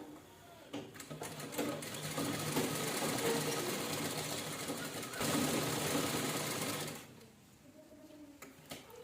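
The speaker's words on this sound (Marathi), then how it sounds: "व्यवस्थित असं ठेवायचं आणि शिलाई करून घ्यायची" A sewing machine stitches a two-colour fabric purse in a steady mechanical whir, close by and fairly quiet. It starts and stops around the edges and runs continuously through the middle.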